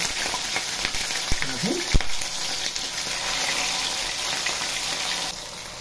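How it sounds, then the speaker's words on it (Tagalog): Galunggong fish frying in hot oil in a pan, a loud continuous sizzle and crackle with a few sharp pops and clinks early on, close up and without talk. "Then guys, mag-fried na tayo ng seagulls."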